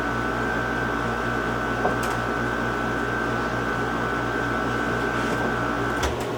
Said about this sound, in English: I have the air conditioner on and that's probably making a very loud hum